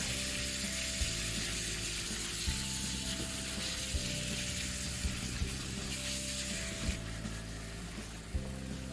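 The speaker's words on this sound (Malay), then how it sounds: "Dengar kan bunyi sizzling dia tu." Steady, dense sizzling of minced beef frying in a hot pan, with occasional stirring knocks and scrapes; no talking.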